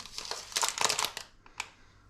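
Close, crisp crinkling of plastic being handled in quick rustling bursts, then a brief pause and one last crackle.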